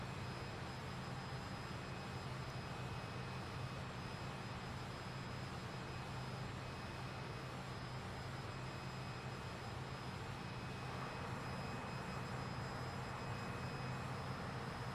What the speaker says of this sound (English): And them engines sound good,